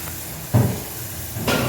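French fries frying in hot oil give a continuous, even sizzling hiss, close and moderate in level, broken by two brief clunks from a utensil or pan.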